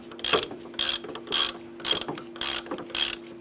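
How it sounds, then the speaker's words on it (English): Ratchet tightening an upper control arm nut on a 2002-2007 Jeep Liberty, six evenly spaced bursts of close, crisp clicking over a faint steady hum, with no talking. "I'm going to go ahead and tighten up that upper control arm nut."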